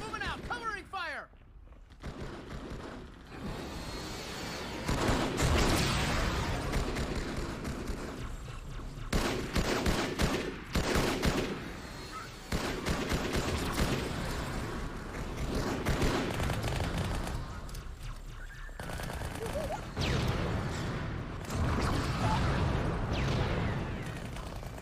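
Sustained covering gunfire in Halo 2 rattles in dense bursts of automatic shots and blasts through most of the stretch, loud and continuous, with soldiers shouting over the firefight.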